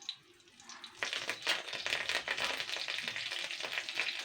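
Curry leaves hit hot oil already holding cumin and sesame seeds, and after a quiet start a loud crackling sizzle bursts out and keeps spitting and popping close by.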